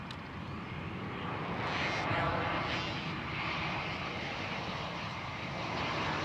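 Jetstar airliner flying in from Sydney to land at Gold Coast Airport, a steady loud engine roar sustained throughout with broadband rumble, heard from a nearby spotting position with no talk.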